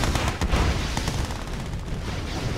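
Units firing in Red Alert 2: Yuri's Revenge, a steady clatter of overlapping gunshots and dull booms throughout a busy battle.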